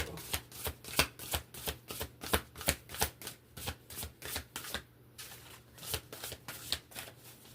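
A big, chunky tarot deck shuffled by hand, with a steady rhythmic run of crisp riffling bursts, close and fairly loud, and a brief pause near the end before the shuffling resumes.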